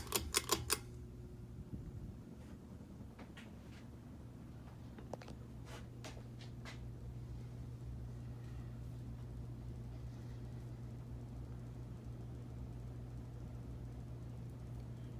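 A Hunter Infiniti 52-inch ceiling fan spinning on its high setting with a slight blade wobble, a faint steady low hum and whir with a few clicks at the start, quiet and continuous with no talk.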